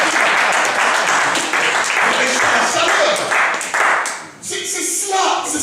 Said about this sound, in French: Je vais vous demander de vous acclamer